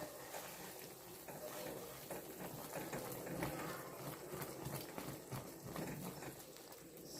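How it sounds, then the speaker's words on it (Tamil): Thick Mysore pak mixture bubbling up in a pan on the stove, giving a continuous dense, soft popping and gurgling that stays at a fairly low level throughout. "பார்த்தீங்கன்னா எப்படி பொங்கிட்டு வருது பாருங்கள்"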